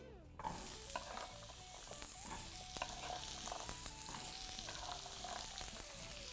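Pumpkin and tempeh sizzle steadily in hot peanut oil in a pan, with a constant close frying hiss and occasional stirring scrapes, no talking.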